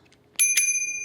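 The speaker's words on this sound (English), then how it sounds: "Gold bell." A gold bicycle bell mounted on a step-through e-bike rings twice in quick succession, bright and close, its metallic tone lingering and slowly fading.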